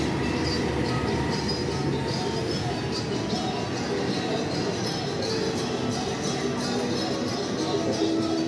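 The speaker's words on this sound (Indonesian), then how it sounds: "perlahan kereta api Ciremai masuk di jalur 2 stasiun Cirebon" The Ciremai passenger train, hauled by locomotive CC 20696, rolls slowly into track 2 at Cirebon station with rumbling wheels, faint squeals and clanks, under a murmur of background voices.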